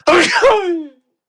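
A single loud, close sneeze with a sharp onset and a trailing vocal tail, heard on its own during a casual podcast conversation.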